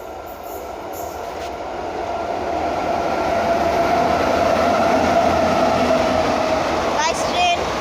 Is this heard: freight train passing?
yes